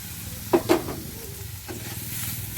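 Potatoes sauté in a pan with a little water, a soft steady sizzle punctuated by a few sharp stirring scrapes and clatters near the start, close and moderately quiet.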